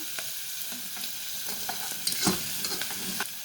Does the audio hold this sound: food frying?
yes